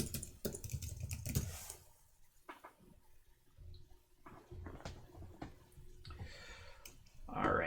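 Computer keyboard typing during HTML and CSS coding, a run of quick, light clicks in short bursts with pauses in between, fairly close and moderately quiet, mixed with faint background noise and occasional louder clatter.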